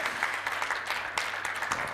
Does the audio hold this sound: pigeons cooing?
no